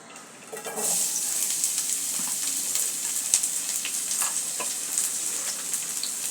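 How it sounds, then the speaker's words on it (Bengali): Minced large garlic cloves drop into hot mustard oil for a garlic mash: quiet at first, then a sudden loud sizzle that holds steady, dotted with crackles and stirring taps. "এখন আমি সরিষার তেলটা গরম হলে আমি রসুন কুচিগুলো দিয়ে দেব।"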